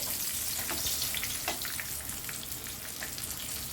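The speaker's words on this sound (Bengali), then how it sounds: "বেগুনগুলো ঠিক উলট পালট করে এইভাবে ভেজে নিতে হবে যতক্ষণ না নরম হয়ে আছে" Small baby eggplants sizzle in hot oil in a pan, a soft, steady crackle with scattered pops and hisses, fairly quiet and close, with no talking.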